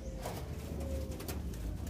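Zebra doves, the perkutut bangkok kept for breeding, give soft repeated coos over a low steady background hum, with no talking.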